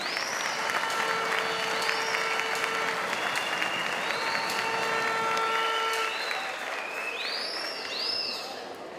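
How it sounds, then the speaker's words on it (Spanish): Sustained audience applause for a senator at a political gathering, broad even clapping from a large crowd lasting the whole stretch, with a few sharp whistles cutting through near the middle and end. "Un aplauso para la senadora Cristina Díaz"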